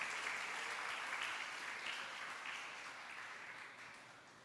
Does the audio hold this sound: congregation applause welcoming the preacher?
yes